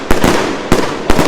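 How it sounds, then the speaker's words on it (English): Booming bursts from a 100-shot fireworks cake loaded with 1,000 grams of explosive, fired on bonfire night; three loud, sharp reports roughly half a second apart ring out over a continuous crackling rumble. "A new one for Gemstone Fireworks this year"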